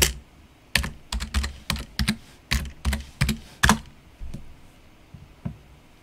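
Close typing on a computer keyboard: a quick run of about a dozen crisp clacking keystrokes, then a few slower, isolated taps trailing off, with no voices.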